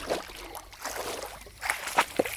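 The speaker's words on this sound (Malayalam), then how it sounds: "വെള്ളത്തിലെ ഓളങ്ങളുടെ ചലനം താളാത്മകമായി ചലിക്കുമ്പോൾ ഉണ്ടാകുന്ന മർമ്മരം" River water ripples and laps gently nearby, soft sloshing and gurgling murmurs rising in small irregular swells, quiet and close with no other sounds.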